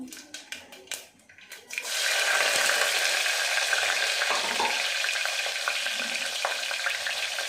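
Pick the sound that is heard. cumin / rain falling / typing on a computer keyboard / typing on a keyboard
cumin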